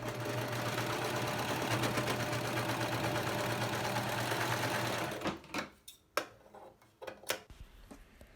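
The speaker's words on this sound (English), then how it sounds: "On the last open side, just sew a little bit on the top and the bottom." A sewing machine runs steadily for about five seconds stitching a cotton face mask, close and continuous, then stops, followed by a few sharp handling clicks and knocks.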